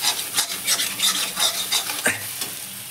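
Chopped tomatoes for a chicken dish sizzle in a hot pan while being stirred, with close scraping strokes in a regular rhythm over a continuous frying hiss.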